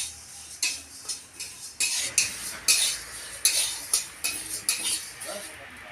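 Moong dal being dry-roasted in a dry wok, stirred with a metal spatula that scrapes and taps in a steady rhythm of about two strokes per second, close and alone.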